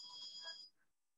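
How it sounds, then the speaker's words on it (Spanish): A telephone rings during a nursing class, a brief electronic ringtone with a bright, steady tone that cuts off after about half a second, leaving near silence. "Ignoren el sonido del teléfono."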